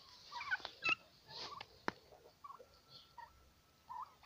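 Turkeys gobble outdoors in snowy, frosty weather, several short bursts scattered over a quiet background, fairly faint and distant with pauses between calls.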